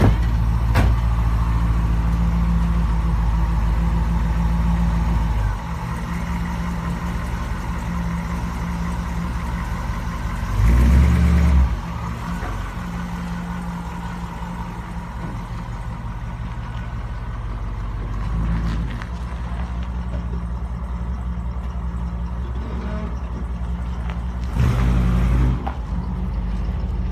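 Vintage-style car engine starting and pulling away, a loud continuous rumble with a few short bursts of throttle, close by and without talk.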